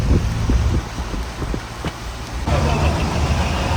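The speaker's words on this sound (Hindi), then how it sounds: "रास्ते में गाड़ियों का काफ़ी रश आ गया और ट्रैफिक जो है वो काफ़ी स्लो चल रही है यहाँ पे।" Slow, congested road traffic in heavy rain near Lahore, with car engines rumbling close by, a steady wash of rain and road noise, and a voice speaking over the scene.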